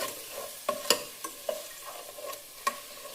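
A spoon scrapes and stirs chili powder and salt into a frying mixture in a pan, with steady sizzling underneath and a few sharp clinks against the metal, close and fairly quiet.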